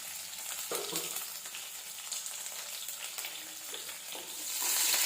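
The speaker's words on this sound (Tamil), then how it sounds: "வெங்காயம் நல்லா வதங்கட்டும்." Small shallots sizzle in hot oil with mustard seeds and dried red chillies for a leafy rasam, giving a constant soft crackling hiss that swells slightly toward the end.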